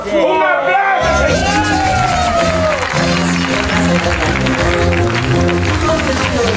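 A live comedy show audience bursts into applause and cheering after a cast is introduced, a loud sustained clapping with whoops and crowd babble that follows a brief shout at the start.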